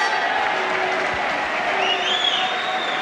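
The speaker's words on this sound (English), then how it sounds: "Crowd here trying to rally Colin Lynes." Boxing crowd clapping and cheering at a professional bout, a continuous wash of applause and murmuring voices that stays steady and fairly loud across the whole moment.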